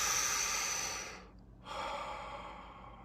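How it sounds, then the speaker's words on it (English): A person inhales deeply during a guided breathing meditation. One long, close, airy breath is drawn in and released, with a short pause in between. "Inhale."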